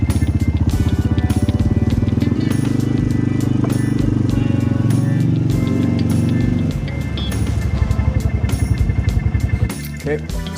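A quad all-terrain vehicle engine running steadily, then shifted into gear and pulling away, a close, loud, buzzing motor note that shifts pitch near the end.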